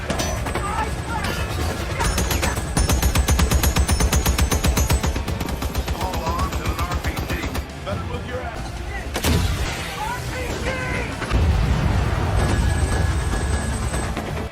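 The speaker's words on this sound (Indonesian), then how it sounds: "Tetapi, tiba-tiba Playboy dikejutkan dengan tembakan musuh yang menyerangnya" Dense, continuous enemy gunfire and explosive booms in a film's drone and helicopter combat scene, layered with heavy rumbling and mechanical noise, loud and chaotic throughout, with voices faintly mixed in.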